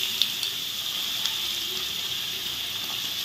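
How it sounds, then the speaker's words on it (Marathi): Chopped radish drops into a hot mustard-seed tempering for radish bhaji, giving a steady, close sizzling hiss that holds evenly throughout with a few faint clicks. "फोडणीमध्ये आता सगळ्यात आधी आपण हे चिरलेले मुळे घालूया."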